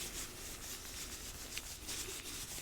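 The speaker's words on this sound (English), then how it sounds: "Now I'm just going to rub that in" Soft, steady rubbing of exfoliating product into facial skin during a close, quiet spa facial, a continuous brushy friction with gentle swells and no talking.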